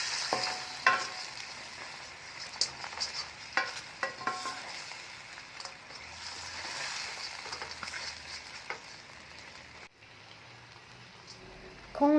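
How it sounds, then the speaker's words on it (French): Fried fish pieces tossed through sauce in a wok for a Thai dish, soft bubbling sizzle with repeated clicks and scrapes of stirring, close and moderately quiet, ending in a brief pause. "Dépose le poisson frit dans la sauce et mélange bien."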